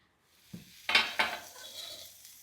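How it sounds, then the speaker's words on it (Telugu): Onions fry in a pan. A few sharp metal clinks of a utensil against the pan come first, then a soft, close, steady sizzle follows. "ఇలా ఉల్లిపాయల్ని వేయించుకోవాలి"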